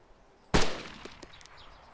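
One sharp AS50 sniper rifle shot in Arma 2 DayZ, a single loud report with a short rolling tail and a few faint distant pops afterward, no voices.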